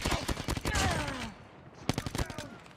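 Rapid gunfire from a shotgun rings out in the mobile shooter game Call of Duty Mobile. Several sharp reports sound in two clusters with a short gap between them, loud and close.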